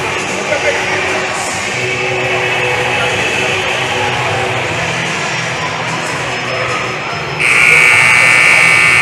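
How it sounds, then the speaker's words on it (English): A long, loud buzzer at a high school varsity basketball game sounds over the steady roar of a gym crowd, then a brighter blast near the end. "So here we go, buzzer sounds."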